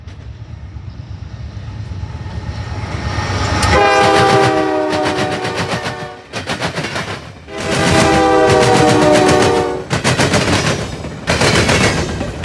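Freight train horn from an AC-44 locomotive, sounded in several long, loud blasts with brief gaps between them, over the steady rumble and clatter of the passing train.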